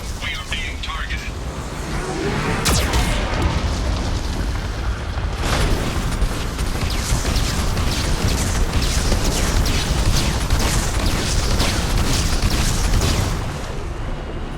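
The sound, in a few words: explosions from Geth cannon attack in Mass Effect 2 video game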